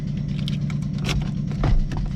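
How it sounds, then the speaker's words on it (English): Metallic jingling and scraping of a car key fumbled into the ignition of a 1.8T build car, close and brief, over a low steady engine hum. "I forgot to put the key in here"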